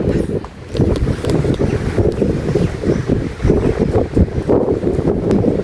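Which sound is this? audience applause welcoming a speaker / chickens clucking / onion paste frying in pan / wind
wind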